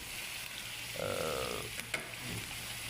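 Green chili, tomato and onion frying together until brown, a soft continuous sizzle with a burst of stirring and a sharp pan knock partway through.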